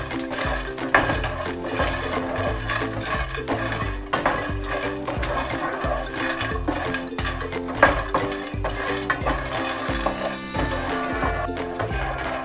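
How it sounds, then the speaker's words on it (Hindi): Boondi frying in ghee in a pan while making panjiri, with a steady close sizzle, repeated stirring and clinks of a metal spoon against the pan throughout, no talking. "इसमें हमने जो बूंदें ली थी वो फ्राई कर लेंगे।"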